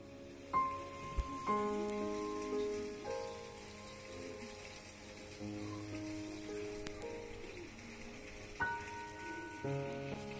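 Rain falls steadily on a misty late morning, a faint, even patter in the background, with several clear tonal sounds and soft knocks rising over it at intervals.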